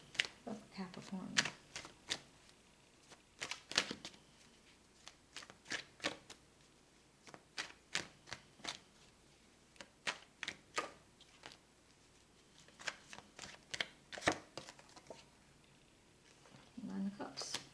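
Tarot cards being shuffled and drawn, with short, crisp riffling bursts and flicks coming in irregular clusters, close and fairly quiet, along with a voice talking softly in between.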